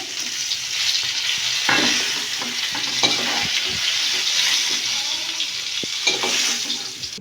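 Pointed gourd (potol) frying in oil in a pan sizzles loudly and continuously up close, with repeated scraping stir strokes throughout.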